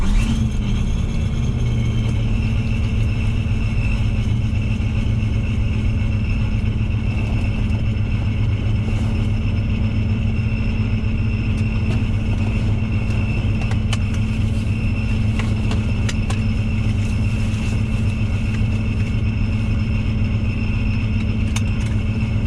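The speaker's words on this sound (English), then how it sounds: "In the car, we'll fire it up," A custom 1977 Camaro Z28 engine rumbles steadily from inside the car, a loud, constant low drone with a faint whine on top that runs unbroken through the drive, with no talking.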